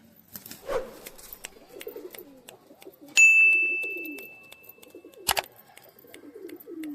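Local desi pigeons in a home loft give soft, low, repeated coos that run steadily through the clip, broken by a bright metallic ding and a sharp knock near the end, with no talk.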